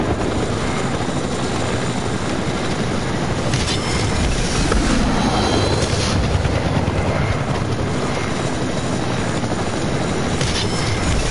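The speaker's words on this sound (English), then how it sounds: "Why didn't we swap by a helicopter, Shay?" A video-game helicopter thrums loudly and continuously with a rapid rotor chop, staying close and steady throughout.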